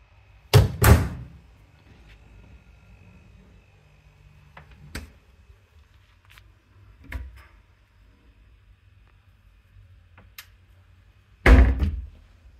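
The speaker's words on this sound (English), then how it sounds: "Nice fridge. The freezer." A hotel room fridge and freezer door is handled, giving a few separate thumps and clunks spread out over quiet gaps, with a loud final knock near the end.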